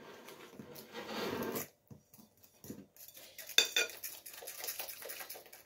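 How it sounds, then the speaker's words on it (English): Flour is mixed with egg in a bowl: irregular clinks and scrapes of a utensil against the bowl, with bursts of brisk stirring, close and fairly quiet, with no talking. "The flour, it needs to be well mixed with the egg"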